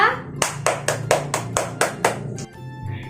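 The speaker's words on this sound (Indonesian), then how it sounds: "Semuanya beri aplaus kepada teman kita" Classroom applause for a student: about eight sharp, evenly spaced bursts of clapping hands, close and loud, ending abruptly with a faint tone afterward.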